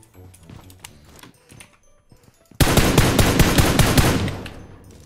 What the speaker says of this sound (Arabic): انا شايل تومي جن.